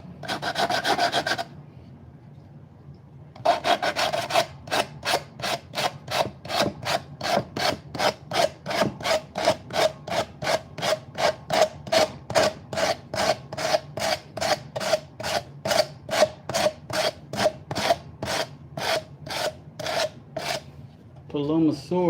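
Hand sanding of a metal light housing with sandpaper: steady rhythmic rasping strokes, close and fairly loud, dozens of even back-and-forth rubs after a brief opening scrape and pause.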